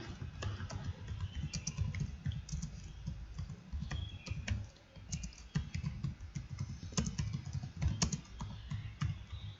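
Typing on a computer keyboard while entering quiz questions into a Google Form: a steady run of quiet, close keystroke clicks with small bursts and pauses, and no talking.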